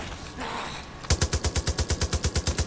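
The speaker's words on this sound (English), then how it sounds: "Gun down as many of these zombies as I can." Rapid automatic gunfire mowing down zombies in Far Cry 5, a steady burst of about fifteen loud, evenly spaced shots after a second of low rumbling ambience.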